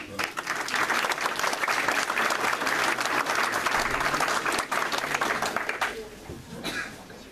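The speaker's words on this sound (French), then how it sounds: "Je vais vous demander d'applaudir" Sustained audience applause, dense and loud for several seconds, with a crowd's clapping gradually thinning toward the end.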